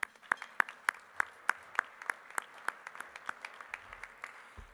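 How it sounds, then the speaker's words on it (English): Applause at a Forty Under 40 awards luncheon sounds quiet and sparse, a handful of distinct claps landing in a slow, regular rhythm, gradually softening, with low room murmur underneath. "Let's give them a round of applause."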